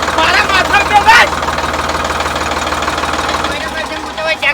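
A tractor engine idles with a steady, low, throbbing rumble that runs through the whole stretch while voices briefly cut in over it.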